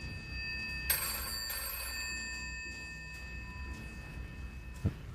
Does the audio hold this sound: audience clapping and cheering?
no